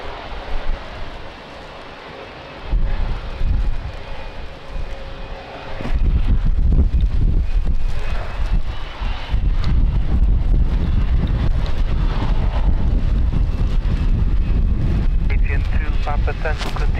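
Strong gusty wind buffets the microphone at Lisbon Airport, a loud sustained rumble that surges after a few seconds and stays heavy, with faint voices mixed in.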